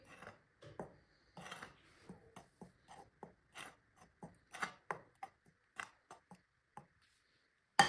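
A spoon stirs dry spices, red chili powder, turmeric and ground black pepper, together in a bowl for a batter, making a sparse series of close, soft clinks and scrapes in an otherwise quiet room.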